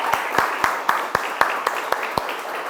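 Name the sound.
audience applause for a guitar duo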